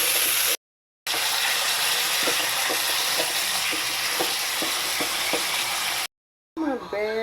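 Pork sautéing with tomatoes for Filipino sinigang na baboy, a loud steady sizzle with scattered utensil scrapes, broken by two short silent gaps, with a brief clatter and tonal sound near the end.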